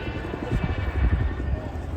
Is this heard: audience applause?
no